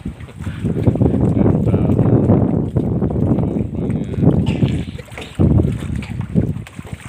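A boat motors across water on a rainy evening near a village, with steady low engine rumble and wind buffeting the microphone throughout, dipping briefly near the end.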